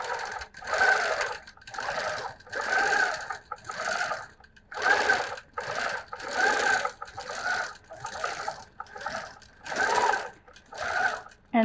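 A sewing machine doing free-motion quilting stitches a zigzag, running in repeated bursts of about a second each with short pauses between them, close and steady with no talk.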